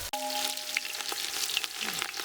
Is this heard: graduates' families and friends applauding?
no